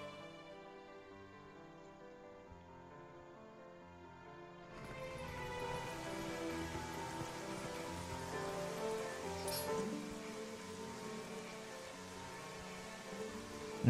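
Steady rain falling outdoors in The Legend of Zelda: Twilight Princess, a soft continuous hiss that grows fuller and louder partway through, layered over quiet game music with no talk.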